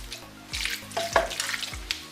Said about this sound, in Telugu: సో ఫస్ట్ అయితే మంచిగా ఆయిల్ పోసి మొత్తం అన్ని ముక్కలు కంటేటట్టు ఒకసారి కలుపుకుంటాను